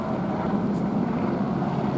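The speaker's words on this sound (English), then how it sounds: "Your taxes for police helicopter harassment, following me day and night, circling around, doing things like this." A police helicopter circles overhead, its steady low rotor and engine rumble holding at an even, continuous level as a broad drone with no pauses.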